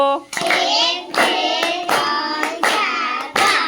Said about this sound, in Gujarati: ચલો પાંચ લાડુ તાળી પાડો